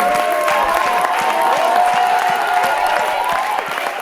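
An audience at a summer 2021 touring Caravane show in Sablonceaux applauds the show's technicians, a steady crowd clapping and cheering that runs for the whole stretch while a voice carries on faintly over it.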